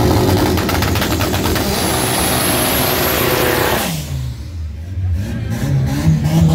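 Volkswagen Gol drag cars, a round-body Gol and a square-body Gol, revving hard on a front-wheel-drive drag strip, a loud sustained engine roar that drops briefly and then builds again, with a commentator's voice over it.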